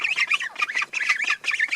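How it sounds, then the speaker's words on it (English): New ducks and geese on a farm squawk and honk continuously and loudly at close range, with overlapping raspy calls in quick bursts. "You can hear all the new ducks."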